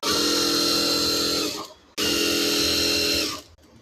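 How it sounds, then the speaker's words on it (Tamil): An electric sewing machine hems the edge of a saree in two sustained high whirring runs, each about a second and a half, separated by a short pause, close and loud. "இப்போ சாரியை ஓரம் அடிக்கிறேன்."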